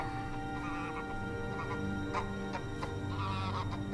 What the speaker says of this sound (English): In here, Mr. Goose